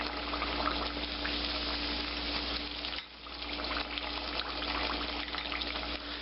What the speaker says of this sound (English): Now all I have to do is just fry that until it's toasted on one side, flip it over, toast it on the other